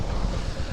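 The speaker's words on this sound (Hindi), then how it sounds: "ये एक छोटा सा झरना है भाई यहाँ पर" Steady broadband rushing of a small waterfall, continuous and close, with no voices; Sissu, Spiti.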